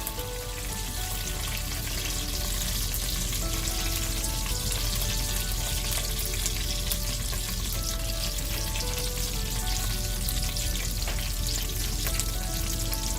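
Okra sambar ingredients, including urad dal, browning in hot oil with a dense, steady crackling sizzle that stays loud and unbroken throughout, with no voices.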